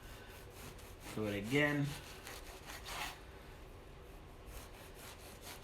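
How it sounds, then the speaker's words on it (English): A knife saws through a loaf of bread being cut into croutons, making repeated rasping strokes up close, with a short spoken phrase partway through. "right at the very end when you're cutting the bottom crust, the bread tend to slide a little bit"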